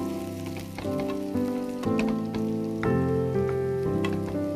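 Vegetables, beans, carrots and spring onions, stir-frying for Schezwan veg fried rice, giving a steady crackling sizzle with scattered sharp pops over a bed of soft background music, no talking.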